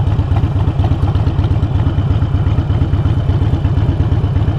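A Harley-Davidson 883 Iron idles nearby, its loud, uneven V-twin thump pulsing steadily throughout with a rattly mechanical clatter and no voices.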